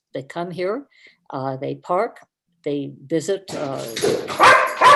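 Dogs bark loudly at the end of a public hearing recording, breaking in over a man's ongoing speech and overlapping his voice in a burst of several harsh barks.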